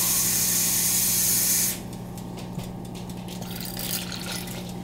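Water from a cup is poured into flour for a simple homemade bread dough, a broad hissing splash in the first couple of seconds that drops to a softer trickle and faint spattering, close by with no talking.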